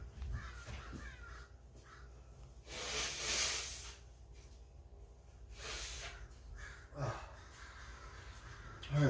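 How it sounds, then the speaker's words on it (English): Crows caw outdoors on a quiet morning: several harsh, rasping calls come in separate bursts at moderate distance, with gaps of low background noise between them. "My crows are talking."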